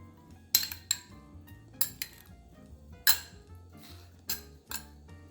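Spoon scooping filling into a low-carb waffle bowl shell, heard as a series of sharp clinks and scrapes of utensil against dish, about six distinct taps spaced irregularly, close and moderately quiet with no talking.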